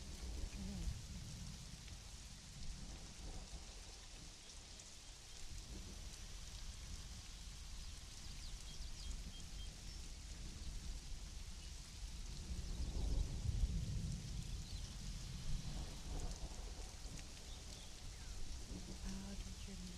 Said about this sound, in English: Someone has learned how to create storms but not dissipate them.